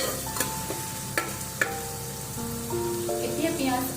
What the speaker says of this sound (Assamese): এতিয়া পিঁয়াজ আৰু নহৰুৰ কেঁচা গোন্ধটো যোৱালৈকে এইখিনিতে ভাজিম।